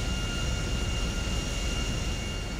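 A small propeller plane flies in GTA V, its steady, dense engine drone holding constant throughout as a continuous broadband roar with faint high whine, with no talk over it.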